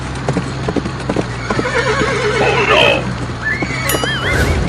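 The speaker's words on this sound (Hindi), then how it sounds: "घोड़ा तो पहले ही रेस में आगे हो गया" A horse's hooves clip-clop in a quick, steady rhythm during a village race in a comedy sketch, loud and close, with a whinny and faint background voices.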